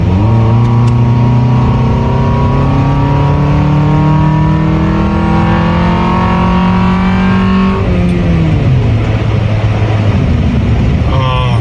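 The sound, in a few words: car engine intake revving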